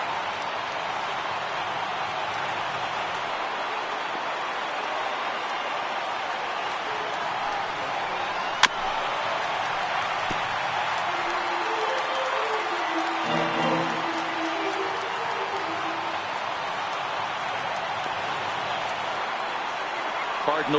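Baseball stadium crowd at a Cubs–Cardinals afternoon game rising to its feet with two strikes on the hitter, a steady broad roar of cheering and applause that swells slightly, heard under a play-by-play announcer's talk.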